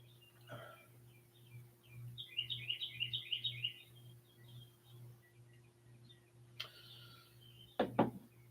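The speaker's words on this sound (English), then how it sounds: "Nice birds you got in the background." Birds call outdoors in the background, a faint series of quick chirps and twittering trills at a distance, with a steady low hum underneath and a sharper burst of calls near the end.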